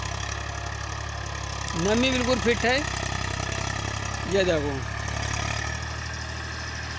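A tractor with a rotavator runs in a field during wheat sowing, its engine a steady low idling hum in the background while someone talks over it.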